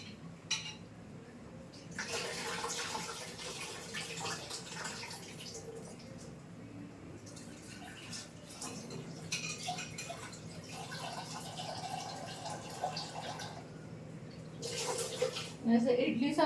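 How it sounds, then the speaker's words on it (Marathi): Dal lentils being washed in water: running and sloshing water in a kitchen, rising and falling in bursts, with a soft voice in the background. "डाळ जरा धुवून घेते."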